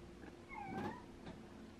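Pet cat meowing to be let back inside, one drawn-out plaintive meow heard faintly through a steady low background hum, with no talk.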